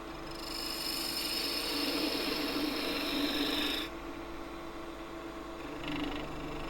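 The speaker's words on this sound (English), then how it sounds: "Tool starts with the bevel rubbing, roll the tool in the direction I want to cut." A wood lathe gouge cuts with its bevel rubbing on the spinning wood, giving a continuous close rasping hiss that swells, then drops abruptly and softens midway, with no talk.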